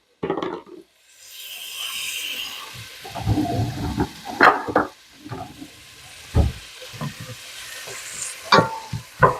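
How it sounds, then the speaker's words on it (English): Half a medium onion, diced, sautéing in a pot: a soft steady sizzle at first, then scraping and knocking from stirring, with occasional sharper clacks close by. "put it in my pot, kind of saute it down, sweat it down a little bit"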